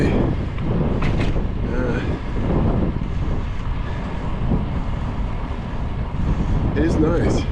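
A headwind buffets the microphone during a bike ride on a greenbelt path, making a constant loud, rough rumble that fills the whole stretch with only slight gusty variations.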